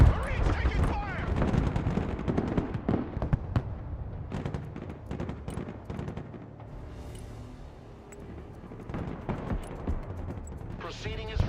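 Gunfire in the video game Broken Arrow, with Marines and an M1 Abrams in combat: dense, continuous crackling shots and booms roll on throughout, mixed under game radio voices and battle noise.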